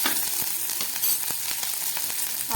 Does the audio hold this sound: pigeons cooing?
no